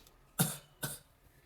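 Two short, soft coughs about half a second apart, close and quiet, used as a singing breath-support demonstration.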